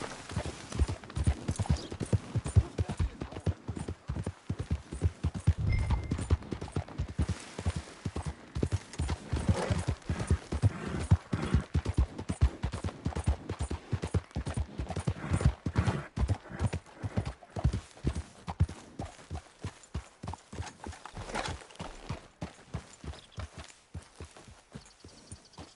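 A horse in the video game Red Dead Redemption 2 clip-clops along at a steady walk and trot, close and rhythmic for the whole stretch, with an occasional whinny and faint talk in the background.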